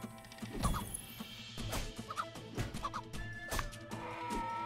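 Roosters cluck and squawk amid combat whacks and crashes in the farming game My Time at Sandrock, short repeated bursts over soft background music.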